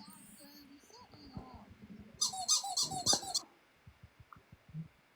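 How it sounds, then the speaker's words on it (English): A squeaky toy squeals in a quick burst of several sharp squeaks, fairly loud against a quiet room, with soft thumps and faint sounds before and after. "squeaky toy?"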